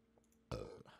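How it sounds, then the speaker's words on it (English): A single loud, close burp from a person bursts out after a brief quiet moment, then trails off into a softer follow-up sound. "I can't stop burping"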